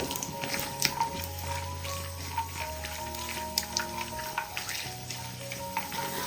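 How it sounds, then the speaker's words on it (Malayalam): Cashew nuts roast in hot ghee over a medium flame, giving a steady close sizzle with soft crackles and occasional scraping stirs throughout. "ഇനി ചൂടായി കിടക്കുന്ന നെയ്യിലേക്ക് 1 ടേബിൾ സ്പൂൺ കശുവണ്ടി ചേർത്ത് കൊടുക്കാം"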